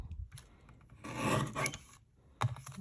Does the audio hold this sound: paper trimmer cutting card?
yes